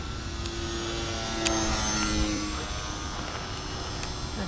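An RC Cessna 182 model airplane flies with a steady, buzzing electric motor whine that holds a constant pitch, moderately near and continuous, over outdoor background noise.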